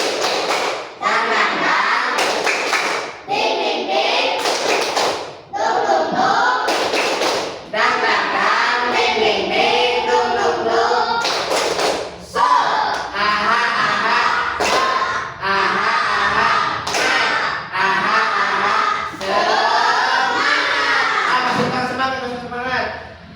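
Indonesian classroom doing the tepuk semangat chant, a group clapping in sharp rhythmic bursts with children and a teacher chanting along, repeated in several rounds with short pauses between.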